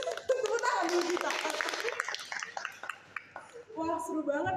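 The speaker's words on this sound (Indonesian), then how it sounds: "Tepuk tangan dulu kita." An audience clapping and applauding on a university talk show, a dense burst of clapping in the first half that thins out, with voices talking over and after it.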